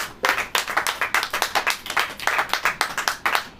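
A church congregation claps hands together during a Hindi sermon, a dense run of crisp claps that rises and falls in rhythmic bursts for several seconds, loud and close.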